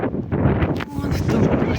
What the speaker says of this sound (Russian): Но ветер не прекращается.